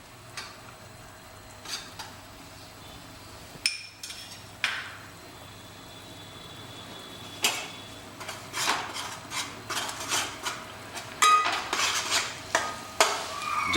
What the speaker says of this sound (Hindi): प्याज के साथ में ही हम लहसुन अदरक डाल रहे हैं।